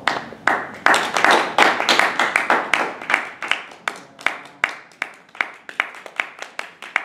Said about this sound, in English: Keep applauding and bravo!